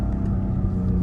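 A Ford F150 Raptor engine roars steadily and loudly as the truck drifts in tight circles on snow, a continuous low rumble close by with no voices over it.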